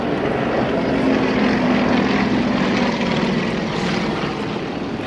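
Yak-50 aerobatic planes flying in formation at an air display, their propeller engines a loud, steady, droning roar that holds for several seconds with only a slight fade near the end.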